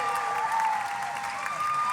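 An audience at a live singing competition gives sustained applause for the contestants, a dense, steady clatter of many hands clapping throughout, with faint cheering mixed in.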